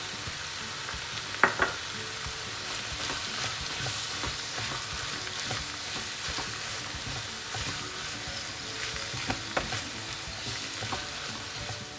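Karnıyarık filling with tomato and parsley sautéing in a pan gives a steady, even sizzle that runs throughout, with a few faint scrapes and taps from stirring.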